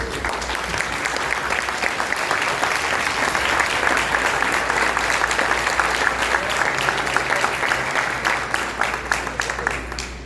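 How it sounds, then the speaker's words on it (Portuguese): Congregation in a church applauding in praise, a loud, sustained wall of dense clapping from many hands that carries on evenly for about ten seconds. "dá uma linda salva de palmas para o Senhor Jesus"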